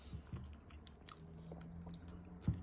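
Close, quiet chewing and biting of Moroccan rabbit tagine, soft wet mouth sounds with a few crunchy bites spread irregularly across the moment.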